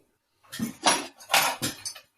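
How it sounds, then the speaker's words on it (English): Brief bursts of rustling, clattering handling noise, a few quick knocks and scrapes close by, as if an object is picked up and moved. "That's the sound of the flute being fetched."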